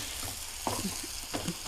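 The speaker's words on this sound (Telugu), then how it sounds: "ఉల్లిపాయలు వేగిపోయినాయి." Onions frying in a pan for a Telugu amaranth-leaf tamarind curry, a soft, quiet sizzle with a few light scraping stirs and faint taps, no talking.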